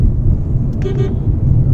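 Heavy road traffic rumbles around a moving Nissan Magnite, with a short car horn toot sounding nearby over the low engine and road noise.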